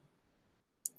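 A single sharp computer mouse click while working in SketchUp, faint and brief, landing just after a moment of near silence over a low background hum.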